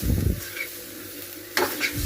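Spoon stirring a flour and milk mixture in a pan over low heat, with a few soft scraping strokes near the start and again toward the end; no voices.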